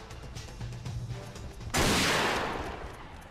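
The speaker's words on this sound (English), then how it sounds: "all this gunfire is going through all the streets at once" Gunfire in the video game Agent Under Fire, set among city streets, starts as a sudden loud blast that tails off into a long, rumbling echo after quieter game ambience.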